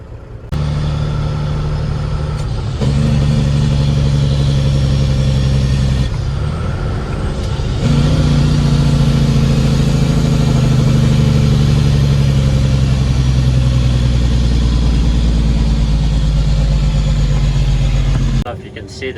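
A loaded farm truck's engine runs steadily and loudly up close with a deep, continuous rumble that rises slightly midway and holds, ending with a brief drop-off.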